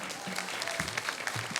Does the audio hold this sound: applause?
yes